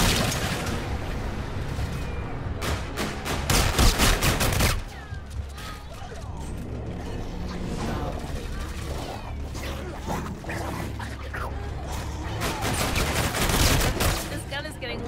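Gunfire in the Call of Duty: Infinite Warfare video game comes as loud, rapid automatic bursts and sustained fusillades, with game sound effects and occasional voices mixed in.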